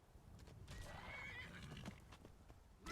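A horse in the game Skyrim whinnies loudly and repeatedly while attacking, with hoof clip-clops mixed in, close and vivid, with no talking over it.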